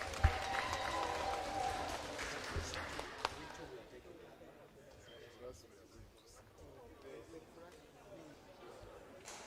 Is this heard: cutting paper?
no